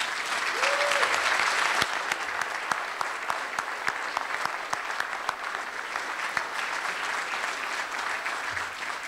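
An audience at the annual Tie-One-On event claps for standing students, a full, sustained roomful of applause with a few sharper individual claps poking through, fairly loud and continuous throughout.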